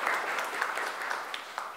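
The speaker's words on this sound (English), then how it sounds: "So give him a round of applause, too." Audience applause at a gallery event in the Baltimore City Hall Courtyard Galleries, a brief burst of dense crowd clapping heard at moderate distance without any talk.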